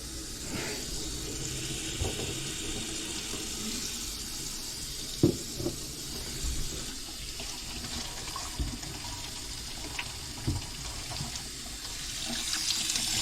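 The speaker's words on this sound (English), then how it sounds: "See if I can turn up the hot water a little more." Hot water runs steadily from a faucet at a medical center, a constant hissing splash into the sink with a few faint knocks and clicks, close and fairly quiet, no talking.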